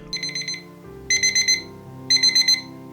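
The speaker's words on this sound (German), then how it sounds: "Morgen früh um 7 Uhr klingelt der Wecker." An electronic alarm clock beeps in three bursts of rapid repeated chirps, separated by short pauses, clear and close over a soft background tone.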